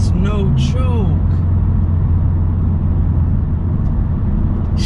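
A 2020 Subaru STI with an aftermarket intake and professional tune accelerates with a loud, steady engine roar, while a person talks excitedly at the start.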